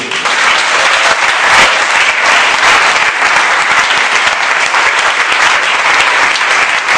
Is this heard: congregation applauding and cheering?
yes